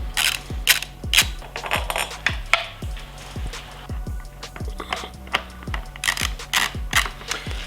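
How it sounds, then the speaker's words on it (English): Ratchet wrench loosening small 5mm bolts on a Honda CRF300L motorcycle, a rapid run of close metallic clicks in short bursts with brief pauses between. "I'm going to start out by removing these 2 bolts on each side."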